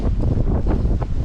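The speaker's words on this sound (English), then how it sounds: "today the wind comes from the south" Wind blows across a sunny, south-facing garden spot beside a house in Ålesund, Norway, a loud, steady rushing roar buffeting the microphone with no other sounds standing out.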